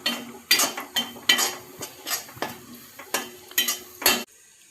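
Homemade red chili masala and turmeric are stirred in a pan. About eight rhythmic, close scraping strokes with a light sizzle are heard, then they stop abruptly.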